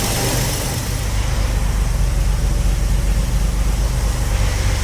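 A car engine idling steadily after a Weber carburettor swap, a low, even rumble close by with no talk over it.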